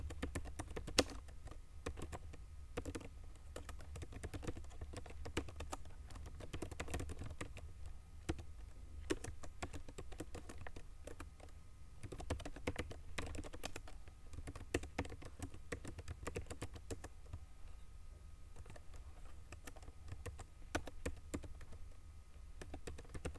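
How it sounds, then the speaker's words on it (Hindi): Typing on a computer keyboard while working on a Photoshop poster: quiet, close key clicks in irregular runs with short pauses, continuing steadily without speech. "अब बाकी जो मैटर है वो मैटर टाइप कर देता हूँ।"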